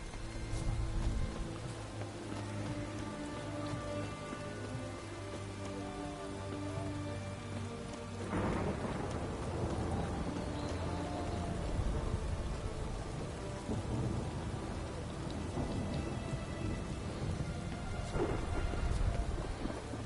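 Steady rain pours in The Witcher 3, with rumbling thunder rolling in about midway and rising in intensity, a continuous moderately loud storm with no talking.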